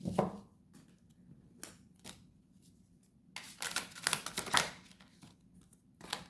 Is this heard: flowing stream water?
no